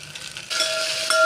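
Ginger-garlic paste goes into a hot pan of oil for mutton rassa curry, and a sudden loud sizzle starts midway and holds steady, with a faint hiss before it.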